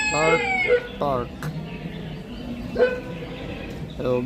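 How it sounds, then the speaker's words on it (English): A dog's barks ring out in short separate bursts during a farm-themed live show at a garden festival, with speech and a busy background between the barks. "Bark, bark, bark, bark."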